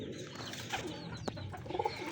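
Young racing pigeons coo softly in a loft, low murmuring coos repeating faintly against a steady background hum, with no speech.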